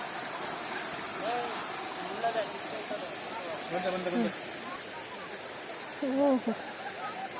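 Gently flowing water in a waterfall or stream area makes a steady, soft hiss throughout, with brief voices and calls rising intermittently above it.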